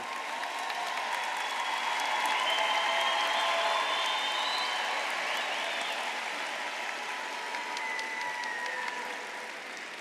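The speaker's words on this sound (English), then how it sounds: "Clap it up for them." A graduation audience at a Calvert High School ceremony for the Class of 2024 applauds in a steady, sustained wash. Scattered cheers ride on top, and the clapping fades slightly toward the end.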